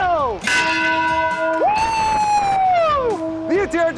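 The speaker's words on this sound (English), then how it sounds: "Ring that bell!" A loud ringing tone with a sustained, wavering pitch sweeps up and holds, then fades, repeating briefly near the end; fast, sharp bell-like strikes and siren-like swells dominate over faint background noise.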